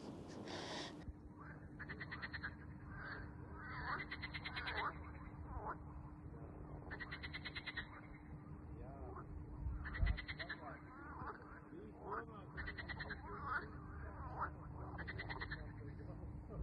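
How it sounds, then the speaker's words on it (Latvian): A chorus of frogs croaks around Liepāja lake on a cool evening, with rhythmic bursts of croaking repeating steadily over a low, constant background hum. "Dzird kā vārdas ņirgājās"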